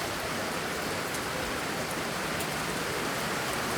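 Heavy rain drumming on the metal siding of a chicken and duck coop, a dense, even, loud patter of countless drops with no pause and no talk.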